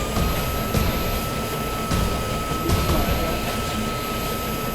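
Aircraft engines power up for takeoff on a blended wing body plane, giving a steady, dense broadband roar with a faint high whine, loud and close, while brief transient thumps come through the noise.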